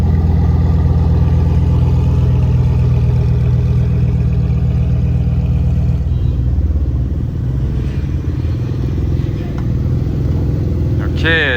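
A Porsche Turbo S supercar engine rumbles loudly and steadily at a New York car gathering, the deep drone shifting midway as the revs change, with voices audible nearby.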